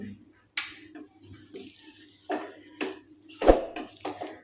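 Spoon clinks and scrapes against a bowl while ragi flour, jaggery and cardamom powder are mixed by hand, in scattered irregular knocks close by.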